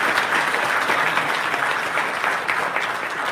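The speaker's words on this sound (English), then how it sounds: "So give Susan a massive round of applause as well." Dense, steady applause from an audience at a live political event in Manchester, a sustained wash of clapping with no voices.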